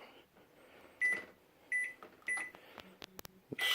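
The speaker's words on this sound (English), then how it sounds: "Just given this broken microwave." A broken microwave oven being switched on: several short, clear beeps at a steady pace, then clunks and clicks from the door or controls, with a low quiet background hum throughout.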